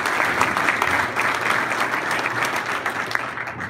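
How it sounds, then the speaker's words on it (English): Loud, dense audience applause fills a high school athletics ceremony, steady and continuous throughout with no voices on top. "one more round of applause"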